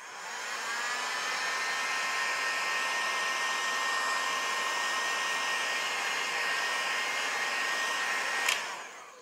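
A hair dryer blows steadily on freshly applied resin over a leather repair, a constant close whooshing hum for several seconds before it clicks off, with no talking.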